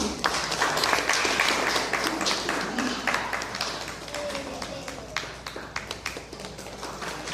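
Applause from an outdoor audience at a kayaking challenge prize ceremony, greeting a certificate handed over for a sprint race winner; a dense, steady patter of claps that holds throughout and thins slightly toward the end.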